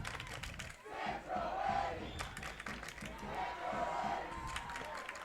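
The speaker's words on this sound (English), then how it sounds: "A hearty and well-deserved cheer from the Norwalk student section for Sam Troetti" The Norwalk student section cheers at a high school field hockey semifinal against Wilton, a sustained, moderately distant crowd roar with rhythmic chanting and scattered shouts swelling and dipping throughout.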